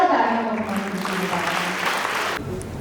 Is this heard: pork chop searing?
no